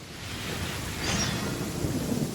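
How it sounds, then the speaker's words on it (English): Rain pours steadily in Genshin Impact while a deep roll of thunder swells in the middle, loud and enveloping, with no voices. "It's raining."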